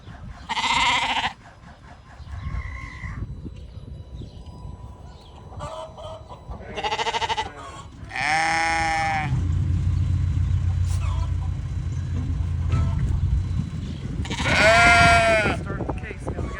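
Flock of Dorper sheep bleating outdoors on a farm guarded by Great Pyrenees dogs, several loud calls in separate bursts with quieter bleats between, over steady low rumble like a passing vehicle.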